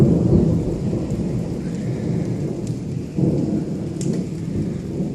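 Thunder rumbles low and heavy during a thunderstorm while steady rain hisses and patters throughout, close and loud, with a swell of rumbling partway through.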